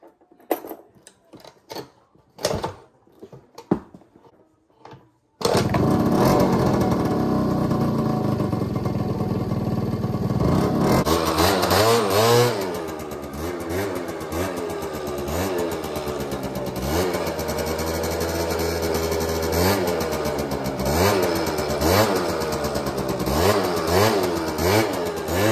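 A moped with a newly replaced cylinder, fitted with a fresh spark plug and exhaust, is kicked over a few times, then fires up on its first start and runs loud and close, revving up and down steadily with a buzzing, clattering two-stroke tone.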